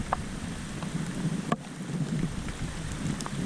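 Rain falls steadily around a fishing boat on clear water, a soft hiss patterned with scattered drop taps and one sharp knock midway, fairly quiet and with no voices.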